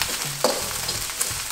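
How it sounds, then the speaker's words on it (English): Oyster sauce goes into salted egg fried rice sizzling in a hot pan, a steady frying hiss with a brief pour and a quick scrape of stirring. "we're putting in the oyster sauce"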